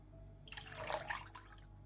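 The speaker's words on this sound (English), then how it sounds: "we pour 5 liters of fresh milk into a deep pot" Fresh milk, five liters, pours steadily into a deep pot, a soft liquid splash rising and fading over about a second, with no voices.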